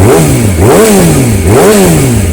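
A 2018 Yamaha R6 motorcycle engine revs up and drops back twice in quick succession, loud and close, a rhythmic throaty rise and fall with no voices.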